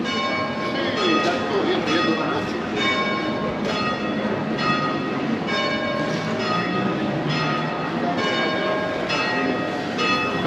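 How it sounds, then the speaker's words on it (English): Church bells ringing in Palma de Mallorca, Majorca, a steady pealing of repeated strikes over street ambience and crowd noise, fairly loud and continuous throughout. "Got the bells ringing."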